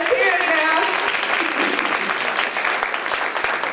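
Loud, dense applause from a conference audience at a women of color entrepreneur event, continuous and close, with cheering voices blended into the clapping.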